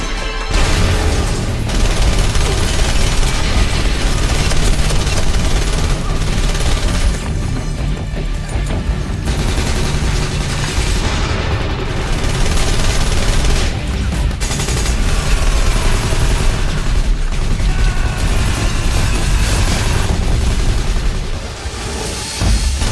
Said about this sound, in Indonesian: baku tembak pun dimulai